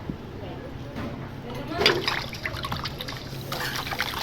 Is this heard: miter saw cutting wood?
no